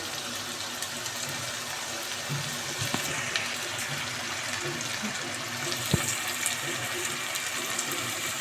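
Water poured into a pan of home-style mixed vegetable curry, a steady running splash with faint sizzling of oil beneath, continuous and fairly close.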